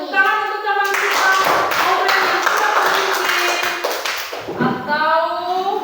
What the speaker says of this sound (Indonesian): Ya, tepuk tangan untuk teman kita.